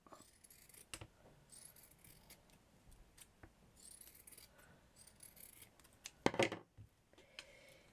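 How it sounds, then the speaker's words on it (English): Scissors cut a circle out of felt in a craft project, a series of quiet snips and rustles up close, with one louder sharp snip near the end and no talking. "I'm just going to cut a circle out of the felt"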